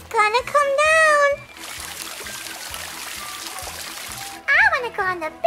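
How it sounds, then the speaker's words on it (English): Water pours and trickles steadily from a toy bucket during doll play, a soft continuous splash lasting a few seconds between bursts of a child's playful sing-song voice. "The bucket's filling up with water. It's going to go down."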